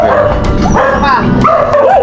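A territorial dog barks and yips loudly and close by in a rapid run of agitated, whining barks.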